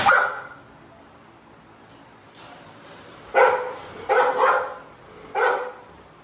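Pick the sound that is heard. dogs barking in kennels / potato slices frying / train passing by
dogs barking in kennels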